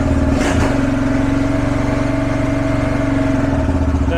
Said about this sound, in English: high idles from the choke being on